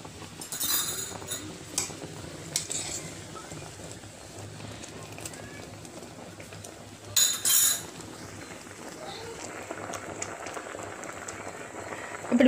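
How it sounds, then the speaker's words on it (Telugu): Maggi instant noodles simmer in a pot while masala powder is stirred in, with a low bubbling bed under scattered clinks of a spoon against the pan and a couple of brief louder scraping bursts. "మ్యాగీ బాయిల్ అయిపోతా ఉందా, ఇప్పుడు దాని మసాలా పౌడర్ వేసేసుకోండి. బాగా మిక్స్ చేసుకోవాలి."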